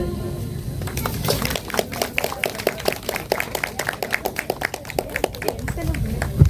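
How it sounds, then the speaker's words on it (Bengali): Dense, steady hand clapping from an audience at a Rabindra Jayanti cultural program, lots of sharp overlapping claps, with music or voices faintly underneath. "হাততালিটা একটু জোরে করতে হবে কিন্তু।"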